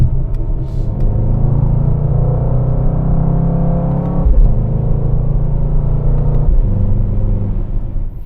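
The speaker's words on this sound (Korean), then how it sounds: "차가 이상하게 이게 떨림이 있지? 주행 중에." A Mercedes-AMG GT 63 with 60,000 km, driving with a vibration like a worn front hub bearing, gives a loud steady low cabin rumble and engine drone with a brief bump partway through, no talking.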